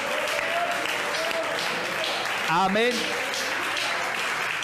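A church congregation applauds during a Spanish-language sermon, a steady wash of clapping throughout with a voice calling out briefly partway through.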